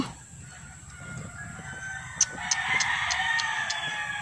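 Chickens scratching in a planted garden plot cluck and squawk in short bursts close by, over a steady background hum, with a few sharp calls standing out.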